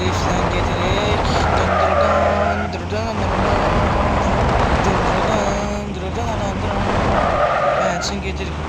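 A car drifts on a city street, its tires squealing in long skids over a loud, steady engine roar, with a brief easing midway before the screech picks up again.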